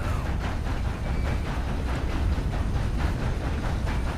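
A steam train rolls along its tracks in the Red Dead Redemption 2 video game, making a low continuous rumble with rhythmic clacking pulses over the rails, steady and fairly loud with no speech.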